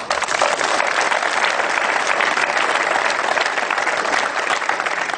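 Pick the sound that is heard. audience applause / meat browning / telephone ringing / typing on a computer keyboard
audience applause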